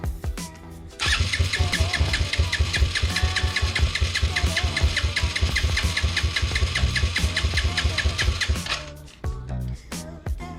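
A 2001 Yamaha YZ 90cc two-stroke dirt bike with a freshly fitted carburetor sputters to life and revs roughly for several seconds, loud and close, then cuts out and coughs in short bursts.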